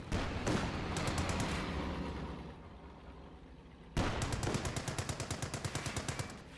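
Battlefield gunfire in the WWII strategy game Company of Heroes 2: rapid machine-gun bursts and shots, a dense volley that fades, then a sharp renewed burst of evenly spaced rounds, loud and close.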